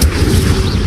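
A fire spell cast in Hogwarts Legacy gameplay: a short, loud burst with a deep booming thud at the start, then a sustained rushing crackle that lasts under a second, with no talk over it.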